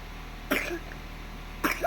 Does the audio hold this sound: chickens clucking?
no